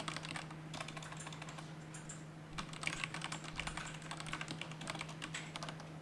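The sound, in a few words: typing code on a computer keyboard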